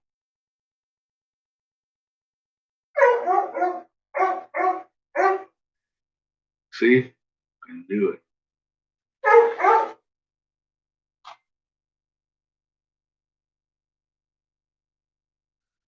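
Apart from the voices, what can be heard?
dog barking and whining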